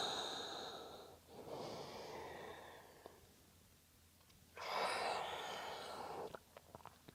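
Soft, close breath sounds from a yoga stretch, two long audible exhales with airy hiss separated by quieter pauses, faint and intimate without talk.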